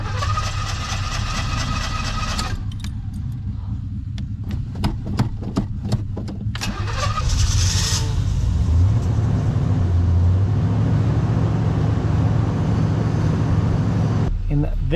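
A classic car engine cranks in a series of short bursts, fires up and settles into a steady, close idle that runs to the end, with people talking briefly around the start.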